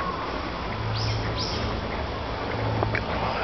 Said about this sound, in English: It still has the bird calls and everything.